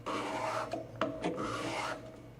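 Close, rasping strokes of sandpaper rubbing against MDF edges on a model bridge kit, a few quick back-and-forth passes with brief breaks between them.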